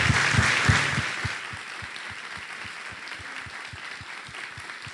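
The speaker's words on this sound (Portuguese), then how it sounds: "Dom João, se me permite, eu vou pedir uma salva de palmas para Dom Gilberto, a segunda." A crowd applauds during a celebration mass marking a university's 83rd anniversary, the clapping dense at first, then thinning into a slower, steady rhythmic beat of claps.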